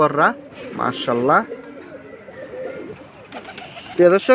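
Pigeons coo in short repeated bursts near the start and again at the end, close and fairly loud, with quieter chatter between. The birds are high-flying green-necked pigeons kept by a fancier.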